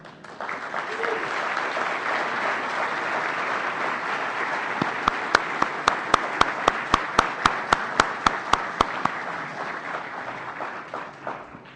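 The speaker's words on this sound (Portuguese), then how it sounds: "uma salva de palmas." Sustained audience applause at the official opening of the FISL17 free software conference, a dense crowd clapping steadily, with a run of sharp, evenly spaced loud claps or taps standing out through the middle and later part.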